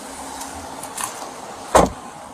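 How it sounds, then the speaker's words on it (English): A car's power window motor whirs briefly at close range, followed by a sharp thump as the window seats or a door clicks, with no talking. "Lock the doors in a second and roll up the windows."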